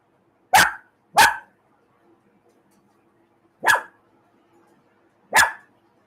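A small dog barks at fireworks during a World Cup match night, four sharp separate barks, two close together, then two more spaced out, loud and near against a quiet room.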